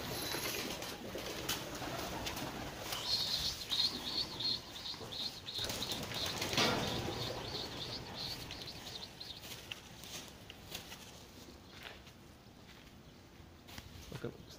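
Pigeons of the Istanbul breed take off from a rooftop and fly, wings flapping and clattering loudly at first, then fading as the birds move away, with a few soft coos.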